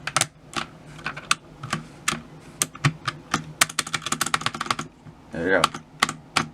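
Typing on a mechanical keyboard after its space bar is refitted, a close run of sharp individual clacks in an uneven rhythm, with someone speaking briefly near the end.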